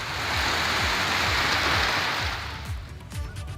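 Rain pours steadily in a low-lying area of Uttarakhand's hill country, a dense continuous hiss that thins out toward the end.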